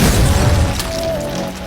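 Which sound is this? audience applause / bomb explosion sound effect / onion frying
bomb explosion sound effect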